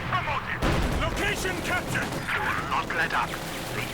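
Explosive battle sounds from Company of Heroes 2, a real-time strategy game, with mortar fire supporting troops amid mixed gunfire. The booms and crackle sit under continuous talking throughout.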